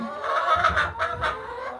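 Older hens in a hen house cluck and murmur in soft overlapping bursts, a close, chatty run of short throaty calls with no talk.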